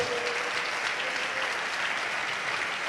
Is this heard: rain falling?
no